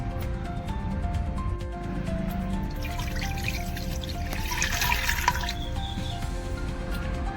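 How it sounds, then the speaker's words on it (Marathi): A glass of water is poured into a pressure cooker holding steamed corn-flour lamps, a gentle trickling splash building over a few seconds against a steady low background hum. "एक ग्लास पाणी टाकले."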